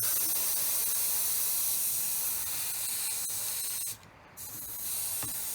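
Air hisses steadily out of a pressurized mobility scooter tire, loud and close, with a short break near the end before the rush resumes.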